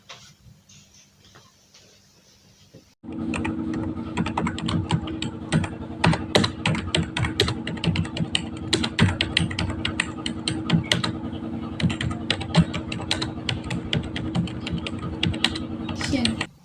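A typewriter clatters in a dense, rapid run of sharp keystrokes after a short quiet opening, steady and close for the rest of the scene.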